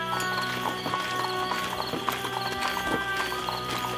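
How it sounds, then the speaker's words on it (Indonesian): Horse hooves clip-clopping in a steady rhythmic gait, close and clear, with a brief whinny mixed in and no talk. "Bagaimana kau bisa mengendarai kuda?"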